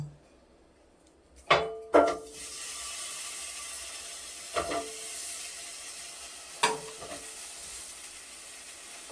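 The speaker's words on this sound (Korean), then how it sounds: "올리브유를 먼저 두른 후에 그 위에 사과를 구워주면 됩니다." Apples fry in olive oil in a preheated pan, with a steady bright sizzle broken by a few sharp clinks of a utensil against the pan.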